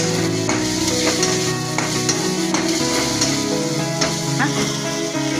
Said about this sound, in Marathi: हे आपण वाटून घेतलेले खोबरं तेही असं मस्त परतून घ्यायचं आहे